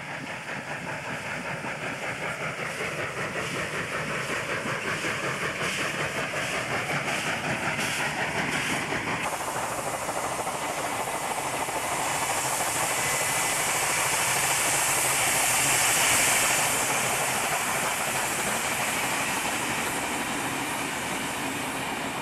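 Steam locomotives 3124 and 3652 haul a special out of Sydney, New South Wales, with a loud rapid chuffing exhaust that gives way to a steady roaring hiss of steam and rolling wheels as they pass close by.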